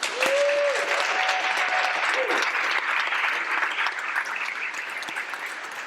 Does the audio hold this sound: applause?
yes